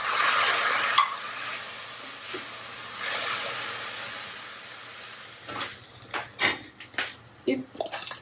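Chopped tomato sizzles in a hot pan for shakshuka, loud at first then settling to a quieter fry, with a spoon stirring and scraping in intermittent bursts toward the end.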